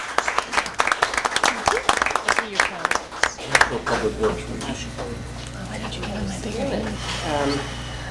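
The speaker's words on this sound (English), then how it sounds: "Please give them another round of applause" An audience at a Fanwood borough council meeting bursts into brisk, scattered clapping for several seconds, then it thins out as people begin talking.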